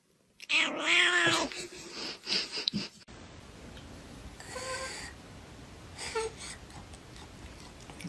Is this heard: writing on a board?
no